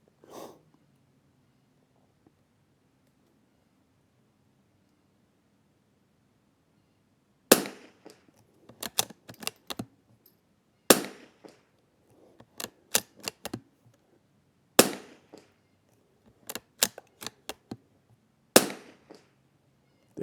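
Savage MKII rimfire rifle firing Eley Match ammunition at a 100-yard range, a quiet stretch followed by a series of sharp cracks, each trailed by quick bursts of clicks from bolt handling, with no talking.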